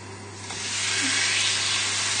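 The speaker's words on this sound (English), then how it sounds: "And you can hear that sizzle." Steaks sizzle in a very hot, smoking pan with a loud, steady hiss that swells after they go in and holds strong throughout.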